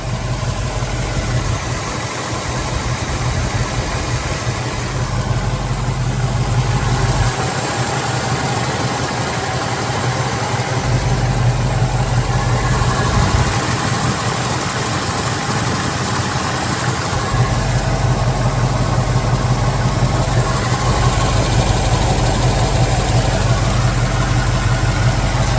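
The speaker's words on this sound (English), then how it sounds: "So we'll cruise on in to various parts just to hear the idle." A 1970 Ford Mustang convertible with an MSD electronic ignition idles steadily and close by, its low engine rumble running unbroken for the whole stretch with no talk.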